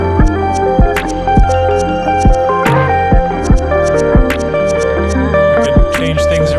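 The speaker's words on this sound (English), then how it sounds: "Overall, here's what our beat sounds like." An electronic beat produced in Ableton Live 11 plays loud and alone, with punchy low kicks, crisp clicking hi-hats and sharp snares on a steady rhythm over sustained tonal synth layers.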